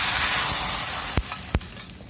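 Vellarikka moru curry poured into a hot pan of fried onions, a steady loud sizzle with two sharp splashy bursts as the liquid hits the oil.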